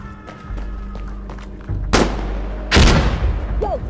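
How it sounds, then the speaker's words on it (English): A frag grenade explodes in the video game Insurgency Sandstorm, giving two heavy booming blasts in quick succession over a low rumbling battlefield drone, the second louder and longer. "I'm throwing a frag!"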